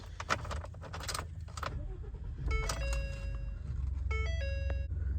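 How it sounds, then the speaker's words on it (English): Keys jangle into the ignition of a 2019 Ford F-150 XLT pickup, followed by bright chiming tones from the dash over a steady low cabin rumble. "Just put the keys in."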